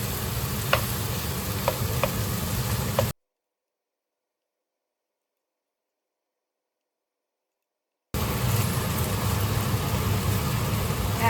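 Rice is stir-fried and chopped apart in a pan over medium heat, giving a steady close sizzle with a few light taps of the utensil. The sizzle drops out to silence midway and then resumes.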